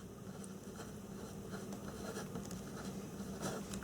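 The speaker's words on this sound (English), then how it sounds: "I'm going to write my reason next to it" Pen or pencil writing an angle-problem answer by hand on paper, a soft continuous scratching patter lasting several seconds, quiet and close with no talk over it.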